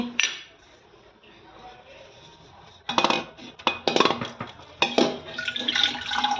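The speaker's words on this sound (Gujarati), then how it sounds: "પાણીની બોટલ પણ ભરવી પડશે ને." Water pours into a bottle at home in a few loud, splashy bursts, with clinks of the bottle and nearby kitchenware, after a quieter stretch of low background noise.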